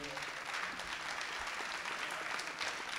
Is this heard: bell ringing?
no